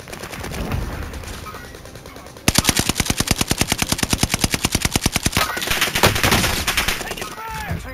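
Rapid automatic gunfire in the video game Warzone, a long loud burst of evenly spaced shots that follows a stretch of softer game noise, with players talking over the action.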